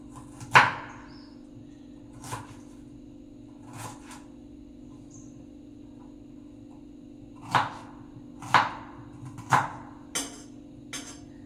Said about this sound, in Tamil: ஸோ ஆனியனும் சின்னதாக கட் பண்ணிக்கோங்க